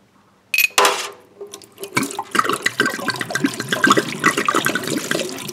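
Wine poured out of a bottle into a small sink in a cruise ship cabin: a sudden splashing gush, then a continuous uneven trickle and gurgle of liquid draining, close by with no voices.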